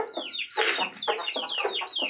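Aseel hens at a breeder's setup in Karachi cluck close by in quick, overlapping bursts, several birds calling at once with no talk.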